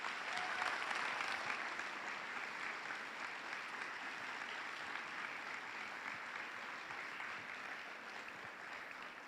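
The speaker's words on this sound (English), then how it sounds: "one more round of applause?" An audience gives a long, steady round of applause after a talk on opioid addiction, a dense wash of many hands clapping evenly throughout with no break, heard from within the crowd.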